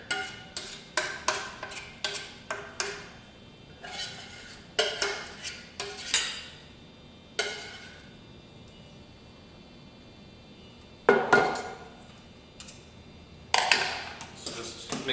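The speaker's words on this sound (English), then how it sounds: "we're going to mix together our spinach and ricotta cheese that we made." A spinach and ricotta cheese mixture being mixed in a bowl for gluten-free vegan lasagna: repeated close scraping and tapping of a utensil in quick clusters, with quiet gaps and a louder burst near the end.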